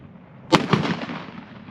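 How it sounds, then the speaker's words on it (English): A Desert Eagle .50 AE pistol from Modern Warfare II fires one loud, sharp shot, followed by a booming, ringing tail that fades over about a second. "Might have to take it off safety. Oh, this gun's got a lot of kick."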